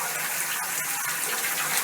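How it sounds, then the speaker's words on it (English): Nozzles on a tunnel tote washer spray pressurised water from the top, sides and back at 65 gallons per minute, making a loud, continuous hiss and roar with no gaps. "These nozzles, the pressure water coming out is 65 gallons per minute on the top, on the sides, and one on the back."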